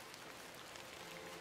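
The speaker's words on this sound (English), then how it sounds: "A bit of rain won't kill me" Rain falls in The Excavation of Hob's Barrow video game as a soft, even hiss of drops, faint and unbroken, with no voices.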